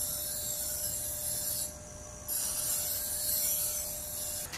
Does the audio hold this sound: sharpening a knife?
yes